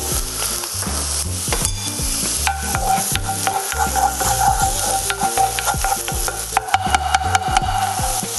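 Onions frying in butter in a pan as they start to brown, giving a loud, continuous close-up sizzle with crackling and sharp clicks and scrapes from stirring spread across the whole stretch.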